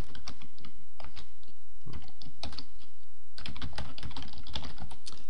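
Computer keyboard typing while a template name is entered in diagramming software, a close, steady patter of keystrokes in short bursts with a brief pause midway.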